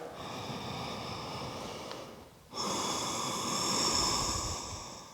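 Slow, audible breaths close to the mic: a long airy exhale, a brief pause, then a fuller inhale, hissy and unhurried.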